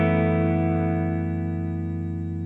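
An electric guitar chord rings out with reverb on a Fender Tone Master Pro amp modeller, held steady and fading only slightly across the whole stretch, with no talking.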